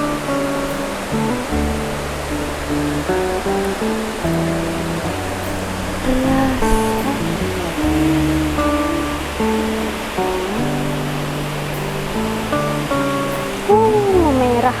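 River water flowing steadily at a shady fishing spot, a continuous broadband wash that stays loud and even throughout, with faint voices and a brief bird-like chirp near the end.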